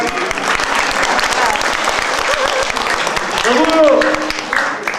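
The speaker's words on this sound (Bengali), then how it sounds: "হ্যাঁ, জমে উঠেছে, হাততালি দিচ্ছে, শুনতে পাচ্ছেন?" A drama audience applauds in a dense, continuous burst of clapping with crowd voices mixed in, swelling slightly near the end before easing off.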